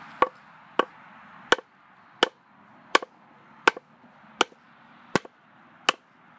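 Hammer blows land on timber during construction of a wooden bench: about ten sharp, close strikes at a steady, slightly uneven pace, each ringing briefly, with no voices.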